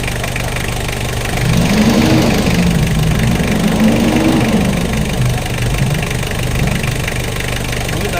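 A Mitsubishi Adventure engine runs close and loud with a steady idle, rising into a couple of revs that swell and ease back before it settles into idling again.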